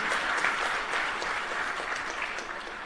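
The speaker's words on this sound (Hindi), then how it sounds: "इन सवालों और जवाबों के लिए भी तालियां होनी चाहिए एक बार" Steady audience applause at a live interview event, a dense, even clatter of many hands clapping that fills the whole stretch at a fairly constant level.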